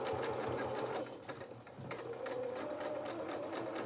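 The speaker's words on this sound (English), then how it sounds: "I'm going to sew straight off one and straight onto the other" Sewing machine stitching fabric pieces of a toy donkey body and limbs, running loud and close, briefly slowing in the middle before resuming a steady whir, with no talk.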